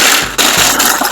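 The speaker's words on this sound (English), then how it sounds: "I'm gonna put them in the food processor and make them so small it's like sand" A food processor grinding gingersnap cookies into sand-fine crumbs runs loud and harsh as a continuous whirring grind, with a brief dip before the motor surges again.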